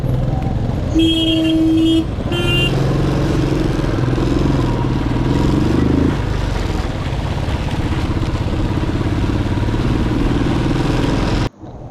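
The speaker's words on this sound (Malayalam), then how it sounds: "നല്ല ബ്ലോക്ക് ഇടയ്ക്കൊക്കെ രൂപപ്പെട്ടു കേട്ടോ ഞങ്ങൾ അതിൻ്റെ ഇടയിൽ കൂടെ ഒക്കെ ചെറുതായിട്ട് വണ്ടിയൊക്കെ എടുത്തുകൊണ്ട് ഇങ്ങനെ പോയി" Slow-moving cars and motorcycles crawl through a rainy traffic block on the road into Munnar town, Kerala, with a steady engine and road rumble, a couple of short horn toots near the start, and constant wet hiss throughout.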